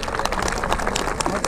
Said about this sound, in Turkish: Artvin'in de alkışını alıyor